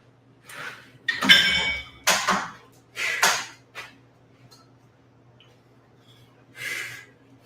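Metal dumbbells clink a few times during a tricep workout, several short bright clanks spaced about a second apart with faint breathing between, fairly close and without talk.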